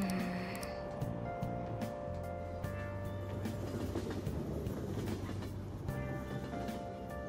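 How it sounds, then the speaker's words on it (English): A train rides the rails in the Persona 5 video game, giving a steady, moderately quiet rumble with rhythmic clickety-clack and faint tonal hum throughout, with no voices. "On the train. I like trains."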